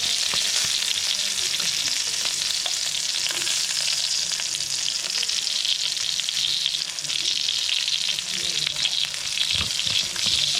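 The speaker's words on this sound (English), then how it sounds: "Hear that sizzling, satisfying sound." Loud, steady sizzling of Filipino longganisa sausage frying in a hot pan, a continuous crackling hiss with no talking.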